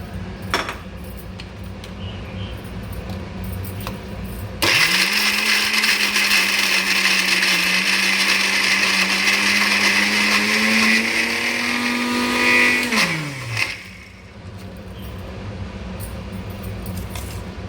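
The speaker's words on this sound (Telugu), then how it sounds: "కొబ్బరి ముక్కలు వేసి మెత్తగా పట్టుకోవాలి" A kitchen mixer grinder blends coconut pieces with dried red chillies for chutney, starting abruptly into a loud, steady whir that holds for about eight seconds, then winds down and stops.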